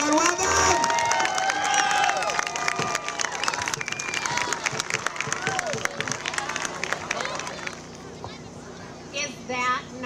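A school crowd applauds and cheers for student musicians, mixed clapping and whoops under steady chatter and a voice talking, with a burst of louder cheering near the end.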